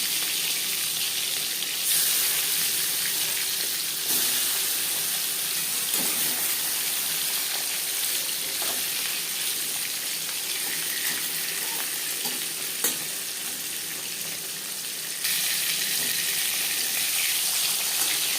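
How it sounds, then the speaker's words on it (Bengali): Marinated silver carp pieces fry in hot mustard oil, a steady close sizzle and crackle running throughout with occasional spatter pops and brief stirring scrapes, no voices. "মাছ ভাজবার জন্য চার চামচ সর্ষার তেল গরম করে নিয়েছি এবার দিয়ে নেব ম্যারিনেট করে রাখা মাছ"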